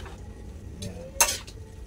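Mixed seafood, shrimp and prawns, stirred in a cooking pan: a couple of soft scraping knocks and one sharper utensil clack against the metal, close by, with no talking.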